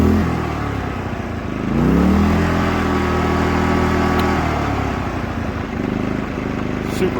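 A WEN 2350-watt portable inverter generator with fuel shutoff, unused for a month, starts on the first pull with choke out and settles into a steady, loud, close engine drone with slight revving.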